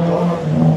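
A Citroën Saxo race car, number 248, at a hill climb, its engine holding a strong, steady drone close by for under a second, loud and unbroken with no talk.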